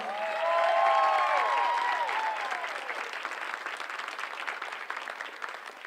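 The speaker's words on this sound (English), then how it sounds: "So if we can give them one last round of applause." Applause for the Lady Rangers girls' team at a send-off celebration in a school gym, a dense steady roar of clapping with shouts and whoops, loudest early then easing slightly.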